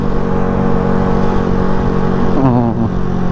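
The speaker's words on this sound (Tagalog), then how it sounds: "Galit yung makina niya, pero di siya bumibilis." A Suzuki Shooter 115 Fi motorcycle engine revs hard and steadily, a loud continuous drone with a brief rising pitch sweep near the end, heard close up while riding.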